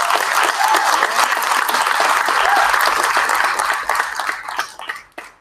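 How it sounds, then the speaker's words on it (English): Audience at an entrepreneur workshop at a community college giving a round of applause, loud sustained clapping that thins out and fades with a few last claps at the end. "I'd also like to give a round of applause to Denise Pasley for signing this event off"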